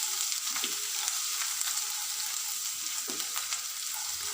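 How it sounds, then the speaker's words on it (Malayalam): Crushed ginger and garlic fry in hot coconut oil for an egg roast masala, a loud, dense, continuous sizzle with occasional soft stirring scrapes and no talking. "ഞാനിനി ഈ ചതച്ച് വെച്ചിരിക്കുന്ന ഇഞ്ചിയും വെളുത്തുള്ളിയും കൂടി ഇതിലേക്ക് ഇട്ട് കൊടുക്കണം. നന്നായിട്ടൊന്ന് ഇളക്കി കൊടുക്കുക"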